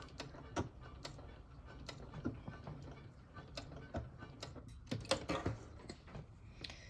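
A sewing machine triple stitches fabric for a drawstring bag, heard close and quiet as a string of irregular mechanical clicks and clacks, with a few sharper taps near the end.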